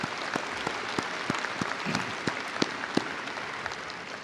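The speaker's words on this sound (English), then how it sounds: "Big round of applause" A university commencement audience at a doctoral and master's ceremony claps steadily, a broad wash of applause with a few sharper individual claps standing out, no voices over it.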